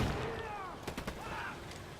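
Gunfire in Ghost Recon Wildlands: a short burst of a few rapid shots rings out over a dense game soundscape with a constant background roar.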